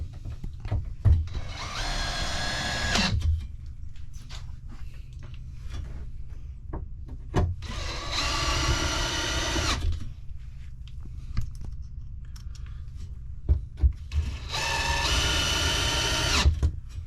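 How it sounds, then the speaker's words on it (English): Drill driving one-inch wood screws through pre-drilled sheet metal for an RV bunk guard: three loud whirring bursts of a few seconds each, separated by quieter gaps with small clicks and handling knocks. "I just pre-drilled the holes in the sheet metal and just using 1-inch wood screws."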